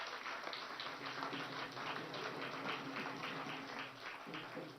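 Rally crowd welcoming Nitin Gadkari with sustained, fairly faint clapping that continues steadily throughout, with a low hum beneath.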